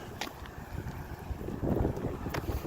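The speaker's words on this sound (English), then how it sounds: "I got the wind against me now, so it's not really pleasant" Gusty wind buffets the microphone outdoors beside an old abandoned railway in Lachine, a steady low rumble that swells louder toward the end with a few brief crackles, no talking.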